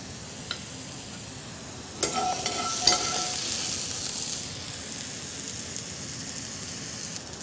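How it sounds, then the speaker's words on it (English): Mushrooms sauté gently in a pan, a soft crackle that swells into a steady close sizzle and keeps frying evenly. "Gently sauté your mushrooms."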